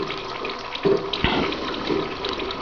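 A laminar water jet runs steadily into the baffled collector of a water-jet-powered clock, a soft continuous trickle with a couple of small splashy bumps, close and alone.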